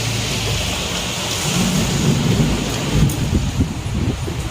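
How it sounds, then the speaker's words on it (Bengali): Steady heavy rain pours down, with low thunder rolling and rumbling beneath it, close and loud, with no voices. "এখন তো বৃষ্টি শুরু হয়ে গেছে"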